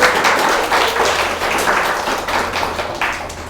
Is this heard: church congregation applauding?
yes